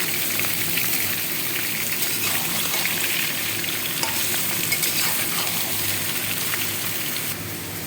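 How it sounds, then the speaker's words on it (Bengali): Potatoes and onions fry with salt in a pan for a mutton dish, giving a loud, steady sizzle with scraping stir strokes throughout, close and continuous with no talking. "লবণ দিয়ে আলু পেঁয়াজটাকে ভাজবো।"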